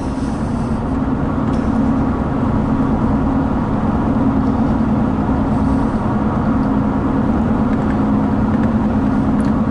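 A Chevy 1500 pickup cruises at 55 mph while bedding in new brake pads, giving a steady, loud road and engine drone with a constant low hum and no voices.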